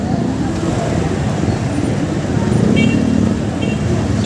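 City street traffic in Manila around midday on a Sunday: a continuous roar of cars and buses close by, with a faint horn toot and no pause in the flow.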